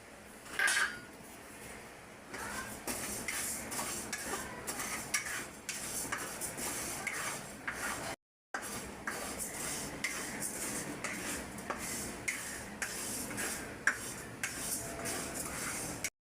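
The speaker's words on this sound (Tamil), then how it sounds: "நல்லா வறுந்துடுச்சு இப்போது இதை ஒரு பிளேட்டில் மாற்றிக்கலாம்" Roasted moong dal is scraped and tipped from a pan onto a plate: quiet, steady metallic scraping and light clinks of a spoon against cookware, close by, with a brief gap midway.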